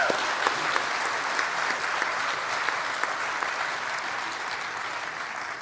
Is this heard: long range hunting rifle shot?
no